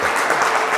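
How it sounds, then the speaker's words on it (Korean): Church youth congregation at a winter retreat applauding as volunteers are called forward, a loud dense burst of crowd clapping filling the whole moment. "자, 박수를 한번 맞이해 봅시다"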